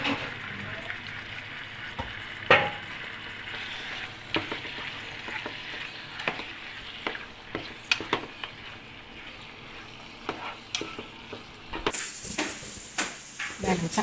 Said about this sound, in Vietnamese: Cánh gà với chân gà cho mình xào cho xong cái hồi mình thả vô cái nồi nước đó.